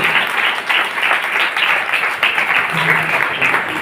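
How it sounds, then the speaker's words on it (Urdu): Loud, sustained applause from a church congregation fills the whole stretch, dense and even with no pauses, the clapping of a large crowd close by. "زوردار تالیاں بجائیں گے خدا کے جلال کے لیے، اپنے لیے"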